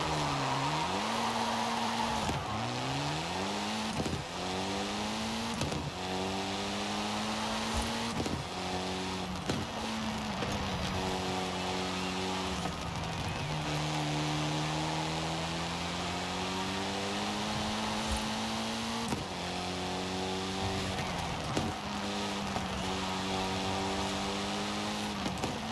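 A Mitsubishi Evo time attack car's engine in Forza revs hard and repeatedly with launch control, pitch climbing through gears then dropping with each shift, a steady loud whine over several runs.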